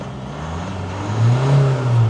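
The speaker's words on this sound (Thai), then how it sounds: "อันนี้เป็นเสียงเครื่องเดิมๆนะครับท่อไม่ได้ทำนะครับ" A stock 2022 Isuzu MU-X 1.9 diesel SUV with unmodified exhaust idles with a low hum, then revs up into a louder, sustained roar before easing slightly.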